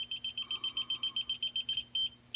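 A TopTes gas leak detector alarm sounds while sensing gas vapor: rapid, evenly spaced high-pitched beeps, about a dozen in quick succession, then a brief pause and a longer tone, fairly close and clear.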